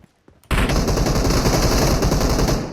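Sustained automatic fire from a Groza rifle in the mobile game PUBG Mobile, bursting in loud and close after a brief quiet moment and continuing as a dense, unbroken rattle.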